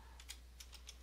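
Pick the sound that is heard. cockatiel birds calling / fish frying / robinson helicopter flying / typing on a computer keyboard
typing on a computer keyboard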